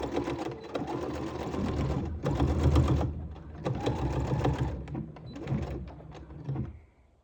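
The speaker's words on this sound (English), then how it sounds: "when you take it to your sewing machine, you're going to sew right under the base of the zipper" A sewing machine stitches zipper panels for a tennis bag in several loud bursts of rapid needle chatter, separated by short pauses, close and alone before trailing off at the end.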